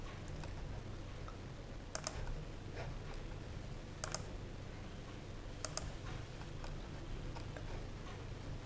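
A computer mouse clicks while a polyline is drawn in AutoCAD, with a few sharp, isolated clicks spaced seconds apart over a quiet, steady background hum.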